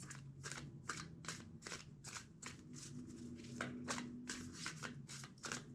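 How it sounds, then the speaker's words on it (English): A deck of tarot cards being riffle-shuffled by hand, about a dozen quick crisp bursts of flapping card edges in a steady rhythm, close and fairly quiet, with a faint low hum underneath. "Two more shuffles."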